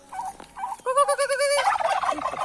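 Farm-raised turkey toms in Cagayan let out a close, loud gobble, a short warbling burst after a few softer clucks, with no talk.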